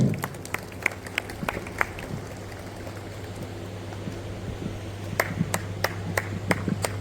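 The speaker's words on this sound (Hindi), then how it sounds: "जोरदार तालियों का स्वागत करें" Scattered, sparse clapping from a small gathering at a public event, individual sharp claps spaced irregularly over a quiet background hum, picking up a little toward the end.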